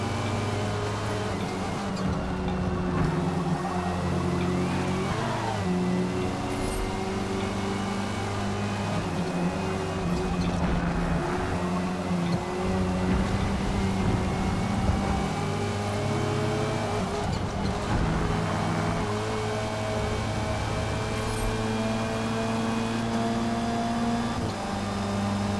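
A race car from Forza Motorsport drives steadily through a circuit, its engine holding a continuous loud drone with rising and falling revs and gear changes, and no voices over it.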